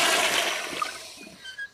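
A toilet flush rushes loudly at the start, then drains away into a fading gurgle and trickle over under two seconds, with no voices present.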